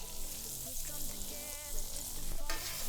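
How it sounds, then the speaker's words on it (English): Pickled sausage, bacon pieces and jalapeños sizzling in a hot pan while being stirred, a steady close crackle of frying with the scrape and shuffle of the ingredients being moved around. "you put your pickled sausage on there. You got some bacon pieces right there. Jalapenos. Give that a little stir."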